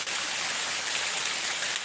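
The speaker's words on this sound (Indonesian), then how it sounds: "Ini air terjun alami ya." Natural multi-tiered waterfall tumbling down toward a river, a dense, constant hiss of rushing water, loud and close, with no voices.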